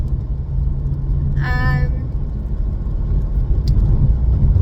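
Steady low engine rumble and road noise inside a moving car, loud and continuous, with a brief high squeak or tone partway through and no speech.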